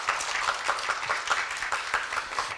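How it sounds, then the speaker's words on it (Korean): An audience at a university lecture hall applauds to welcome a speaker, a fairly soft, steady patter of many hands with regular pulsing peaks and no voices over it. "큰 박수 부탁드리겠습니다"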